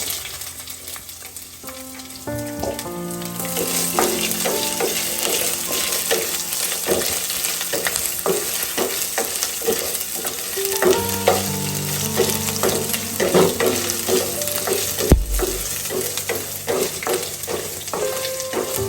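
Dried red chillies, garlic and ginger sizzle steadily in hot oil in a frying pan, with a continuous loud crackle, repeated stirring scrapes, and brief clinks of a utensil against the pan.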